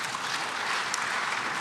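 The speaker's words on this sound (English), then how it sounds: "Please, a round of applause for my panelists." Audience at a conference closing ceremony applauds panelists, a steady wash of clapping heard faintly and evenly throughout the short stretch, with no voices over it.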